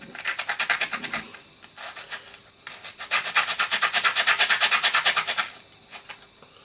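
A sanding sponge rubs back and forth over a part of an old Goodsell school record player, giving bursts of rhythmic rasping strokes, a quick run, a pause, then a longer steady series close up with no talk.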